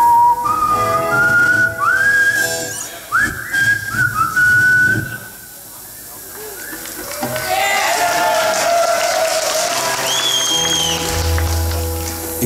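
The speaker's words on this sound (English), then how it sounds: "He smiled, looked up to the sky, and whistled a tune." A person whistles a lilting melody of sliding, sustained notes, fairly close, with a short pause midway before the tune resumes over faint background noise.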